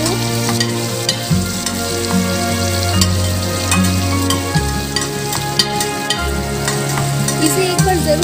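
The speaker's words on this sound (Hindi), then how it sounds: "अभी हम इसमें कटे हुए प्याज को भी डाल दे रहे हैं।" Chopped onions fry over a high flame in a pan for a mutton curry, giving a steady, loud sizzle with occasional stirring scrapes and no voices.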